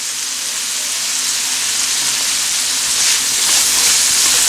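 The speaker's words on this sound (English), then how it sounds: "Saute it nicely until they cooked 3/4." Vegetables including green pepper and green chilies sauteing in a pan for vegetable egg fried rice, giving a steady, loud, close sizzling hiss that swells slightly toward the end.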